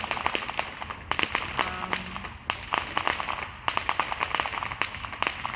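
Fireworks crackle and pop in rapid, irregular bursts of sharp bangs, loud and close, continuing without pause throughout.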